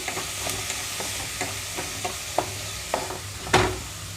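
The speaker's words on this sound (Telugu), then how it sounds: "పచ్చిమిరపకాయలు అన్నీ వేగిపోయిన తర్వాత ఇందులోకి దొండకాయ ముక్కలు కూడా వేసేసుకున్నానండి" Green chillies, peanuts and tindora pieces fry in a pan with a steady soft sizzle, broken by a series of light stirring scrapes and one sharper clatter near the end, close by and with no voices.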